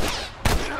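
A single gunshot in The Last of Us, one sharp crack midway through a brief stretch of background noise.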